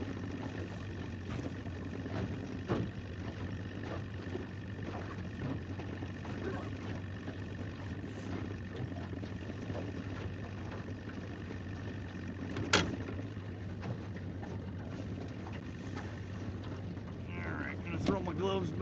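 A 75-horsepower two-stroke Johnson Evinrude gas outboard trolling a fishing boat on Holter Lake, Montana: a steady, low, droning engine hum running throughout with wind noise, and a couple of faint knocks near the end.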